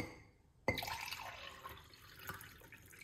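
Water poured into a glass of freshly squeezed lemon juice for an apple cider vinegar drink, with a sudden onset followed by a steady liquid splash and trickle, close and fairly quiet.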